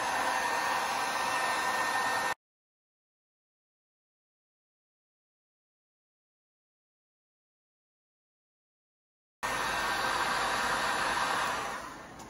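A hair dryer blows a loud, steady whoosh across the glaze on a pottery soup bowl, runs for two seconds, cuts to silence, then starts again and fades slightly near the end.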